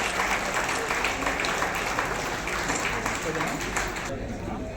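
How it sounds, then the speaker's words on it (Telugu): A big round of applause from an audience at a bank cheque distribution event hosted by an MP, a dense steady clatter of many hands clapping, with voices mixed in underneath. "ఆయనకు ఒక పెద్ద రౌండ్ ఆఫ్ క్లాప్స్ తో చూడండి సార్"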